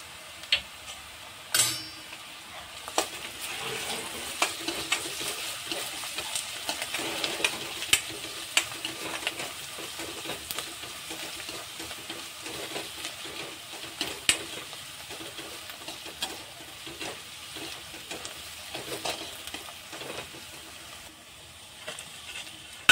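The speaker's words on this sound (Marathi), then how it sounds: "कांदा आपला चांगला परतून झालेला आहे. आता आपण यामध्ये आपण जी अद्रक लसणची पेस्ट घेतली होती ती यामध्ये टाकणार आहोत" Chopped onion sizzles in a pan for a dhaba-style paneer masala bhurji while ginger-garlic paste goes in, with a steady frying hiss and frequent light clicks and scrapes of stirring, close and moderately quiet.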